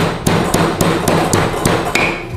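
A pestle pounds a hard, dry air-fried ingredient in a mortar, about eight sharp, evenly spaced thuds in quick succession, close and loud, with no talking.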